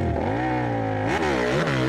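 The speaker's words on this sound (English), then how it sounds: "He's revving up, clicks it into second." A Harley-Davidson motorcycle revs hard at a hill climb event, a loud, close, steady engine roar that rises in pitch and then dips briefly as it shifts into second gear.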